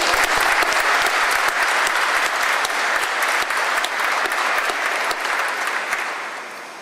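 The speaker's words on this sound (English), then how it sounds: "give them a round of applause to the band" Loud, dense applause from a crowd at a military change of command ceremony, thanking the band, a sustained roar of many hands clapping that tapers slightly toward the end.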